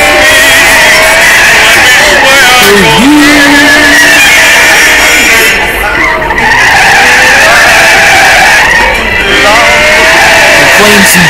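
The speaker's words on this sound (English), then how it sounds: "Ferrari 458 Italia and Burnout Drift." A Ferrari 458 Italia drifts in the Burnout Drift game, its tires squealing loudly and almost without a break over a steady engine roar, with a voice talking over it.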